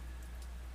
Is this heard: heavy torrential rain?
yes